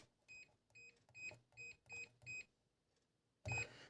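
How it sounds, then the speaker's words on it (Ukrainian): A string of short electronic beeps from a 1980s Singer Futura 2010 sewing machine, six evenly spaced chirps, then a pause and one louder, longer beep at the end. "Машинка пікає."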